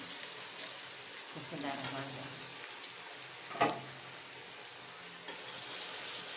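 Potatoes dropped into a hot pan for an aloo baingan sabzi fry with a steady close sizzle, a brief clatter as they go in around midway, and the frying hiss continuing underneath.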